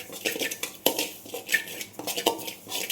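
Samba wheat semolina dry-roasting in an empty pan, stirred with a metal spoon that scrapes and clinks against the pan in close, uneven strokes, with no talking.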